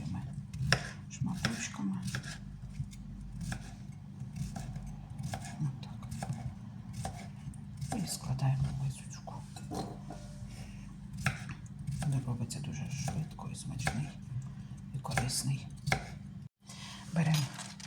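A knife slices a peeled cucumber on a small cutting board for a salad, a quick rhythmic run of close chopping taps against wood, with someone speaking at times and one short pause near the end.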